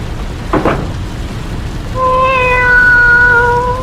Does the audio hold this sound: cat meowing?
yes